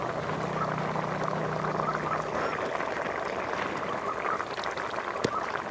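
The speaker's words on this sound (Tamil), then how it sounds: "இந்த மாதிரி புளித்தண்ணி ஊற்றிக்கலாம்." Tamarind water poured into a boiling anchovy dry fish curry in a pot, a continuous bubbling, liquid rush and simmer at close range with no talk.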